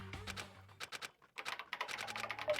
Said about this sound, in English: I like the sound of the keys on the keyboard.